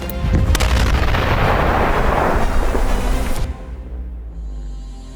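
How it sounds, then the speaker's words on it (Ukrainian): A loud, heavy demining explosion in Ukraine's Kupiansk district booms and rumbles for several seconds before cutting off, leaving a low lingering rumble. "Вибух!"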